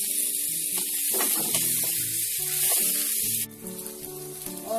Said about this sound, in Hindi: इन फली को कम से कम 5 से 6 मिनट के लिए हम भूनेंगे।